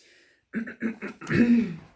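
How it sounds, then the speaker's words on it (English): Someone clears their throat close up, a few short rough bursts followed by a longer, harsher rasp. "I'm just going to have to clear my throat"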